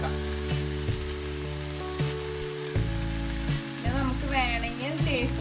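Kerala-style beef liver roast with pepper and fennel powder frying on low flame, a soft continuous sizzle under a steady low hum and occasional faint clinks, close by, with no talk.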